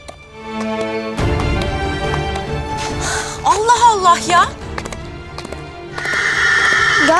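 Horse neighing loudly in a rural Turkish drama scene, with a whinny rising and falling midway among steady clip-clop of hooves, all set under a dense music bed with speech nearby.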